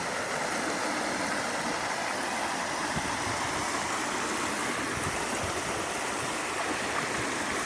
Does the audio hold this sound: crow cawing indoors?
no